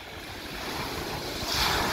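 Sea waves washing onto the shore, a continuous close hiss of surf that swells slightly louder toward the end, with no voices.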